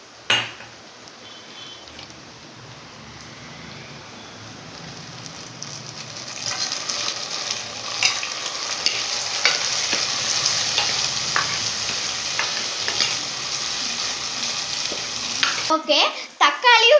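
Garlic, onion and tomatoes frying in a pan, a loud continuous sizzle that swells as stirring begins, with repeated scrapes and clinks of a spatula against metal, ending in a burst of clattering.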